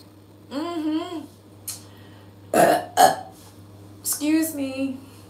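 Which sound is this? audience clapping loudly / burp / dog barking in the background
burp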